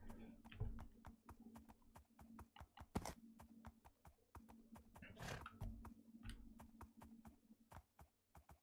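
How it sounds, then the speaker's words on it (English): A mule's hooves clip-clop steadily in a survival video game, quiet and evenly paced, with a few heavier thuds in between. "Pearl, you're making me regret having brought a mule so slow."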